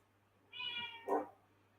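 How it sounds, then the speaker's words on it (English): A cat that has just woken up meows alone nearby: one drawn-out, tonal meow that breaks into a short, louder, rougher call, then quiet. "Now the cat is just woken up."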